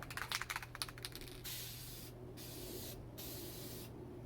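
Spray paint hisses in bursts onto a minibike seat, a few short puffs followed by long steady sprays separated by brief pauses, close and fairly quiet over a low background hum.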